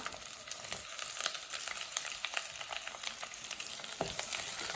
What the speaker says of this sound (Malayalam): ഇത് രണ്ടും കൂടി ഒന്ന് ചെറുതായിട്ട് വഴറ്റി കൊടുക്കാം